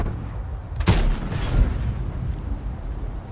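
A single heavy cannon shot from a Swedish tank destroyer in World of Tanks, a sharp loud boom with a short rumbling tail, followed by a fainter second thud and low ambient battlefield hum.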